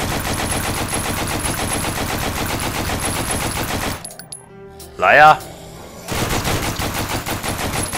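Rapid automatic gunfire in the zombie shooter game The Walking Zombie: Dead City, loud repeated bursts that break off briefly while someone shouts, then resume at full pace.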